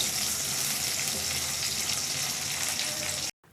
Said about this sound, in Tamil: வெங்காயம் நல்ல கலர் மாறி சாஃப்டாக வர வரைக்கும் வதக்கிக்கோங்க.